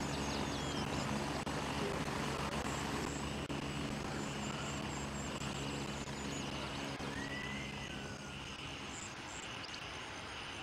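Helicopter rotor drone in a military shooter game, a steady loud wash of engine and blade noise that holds throughout and fades slightly toward the end, mixed with dense game ambience.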